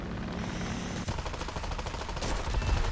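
Bursts of aircraft cannon fire hitting an enemy jet in War Thunder, rapid continuous rattling over a steady jet engine roar, growing louder and denser toward the end.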